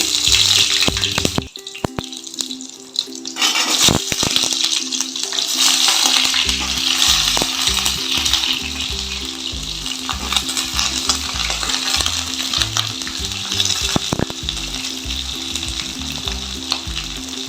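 Potatoes fry in hot oil for a pumpkin curry, a loud close sizzle with repeated stirring and sharp clicks of a utensil against the pan.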